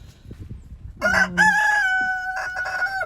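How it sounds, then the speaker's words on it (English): Roosters crow loudly and close by, one long drawn-out call following a brief start, with faint clucking beforehand. "We have our F4 olive egger roosters."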